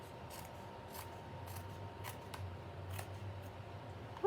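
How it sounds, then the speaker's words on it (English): Scissors snipping along the edge of a card stock base, a series of quiet, crisp cuts in an irregular rhythm, close up against a soft room hiss. "just take your scissors, your snips, and just use the card base as your guide, and just trim that right off"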